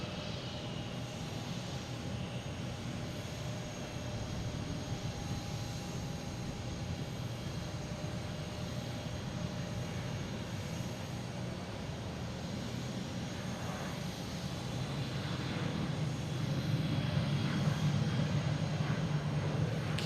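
A JetBlue jet arriving from Cancun at Boston Logan airport gives a sustained engine roar and whine that slowly swells louder toward the end as it approaches.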